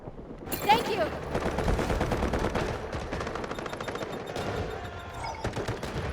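Gunfire from enemies on a roof in the video game Delta Force crackles in rapid automatic bursts and single shots, loud and dense throughout the stretch, with a faint voice underneath.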